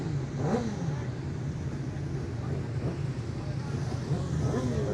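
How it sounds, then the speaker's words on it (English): Superbikes head out onto the Cookstown 100 road race course, their engines droning and rising in revving sweeps at mid distance beneath a commentator's voice. "the Superbikes have made their way out onto the track"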